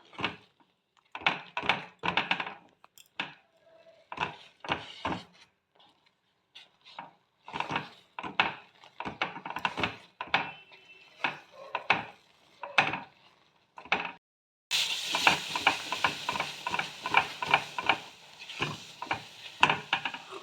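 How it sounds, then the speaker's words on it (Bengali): Amla candy mixture being stirred in a pan: repeated scraping and tapping strokes in an irregular rhythm, close and fairly soft, growing busier and more sizzling toward the end. "তো এটা ভালো করে মিশিয়ে নেব, একটু রান্না করে নেব এটা।"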